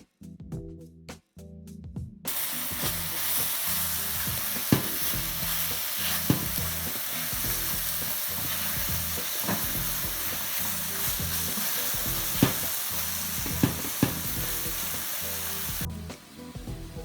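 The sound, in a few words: vegetables frying and charring in a pan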